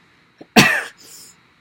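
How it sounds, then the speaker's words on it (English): One sharp, harsh cough rings out close up, preceded by a tiny catch of breath and followed by a raspy exhale. "now I'm coughing like her"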